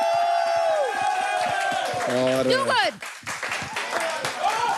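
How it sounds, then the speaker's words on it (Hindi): At the grand finale of a Playground Season 4 show, the audience claps and cheers for the mentors with rapid clapping, whoops and shouts, while voices talk over the noise. "एक बार अपने मेंटर्स के लिए ताली बजाइए"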